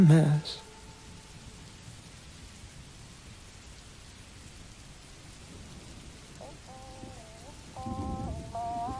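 Steady rain falls as a soft, even hiss, with a brief louder burst at the start and faint tonal music entering near the end.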